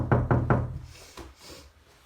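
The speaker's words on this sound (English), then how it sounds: "I think we have to knock on the door now" Three quick, firm knocks on a door close by, followed by a fainter thud and a quiet room.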